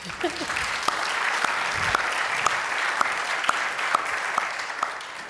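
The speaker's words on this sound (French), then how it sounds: "Manon, si vous voulez l'applaudir." A theatre audience applauds a performer at a cultural season presentation, with steady, dense clapping throughout at moderate loudness and a brief voice at the start.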